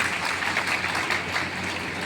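Steady applause from an audience at a Safe Shop business gathering in Gumla, continuous and fairly close, filling the whole moment with dense clapping.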